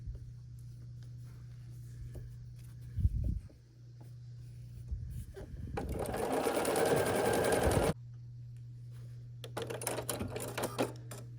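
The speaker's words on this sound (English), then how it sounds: "So we're just gonna sew a square to the side of each of those, all of these 30." Home sewing machine stitching quilt squares in bursts: a steady motor hum with a brief clatter, then a louder, denser run of stitching for about two seconds, followed by more light rapid stitching near the end.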